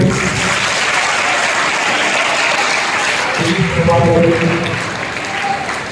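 A school auditorium audience at a science debate competition claps continuously, the dense applause holding steady while a voice talks over it near the end.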